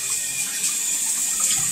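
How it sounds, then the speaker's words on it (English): Water runs steadily from a tap into a floor sink, a continuous close hiss of flowing water with no voices over it. "you go and find your floor sink and you run the water there as well"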